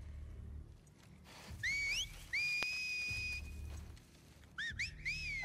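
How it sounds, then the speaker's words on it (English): Enemies in The Last of Us Part II signal with sharp rising two-note whistles, then a long held whistle, and another burst of rising whistles near the end, echoing over low ambient game rumble. "I really don't like when they whistle."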